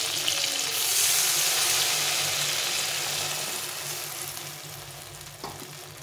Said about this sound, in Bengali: এখন আমি এই সর্ষেটা দিয়ে দেবো।